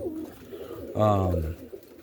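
Roller pigeon cock birds in a loft at night, giving one short, close, throaty coo that stands out over a quiet, dim background hum.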